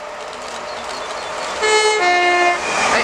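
A passing train at Ealing Broadway station sounds a short two-tone horn toot over steady rail rumble, loud and close, with no talking.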